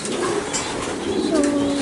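Racing pigeons kept in a backyard loft coo softly, a low murmuring call rising near the end over faint background noise and rustling.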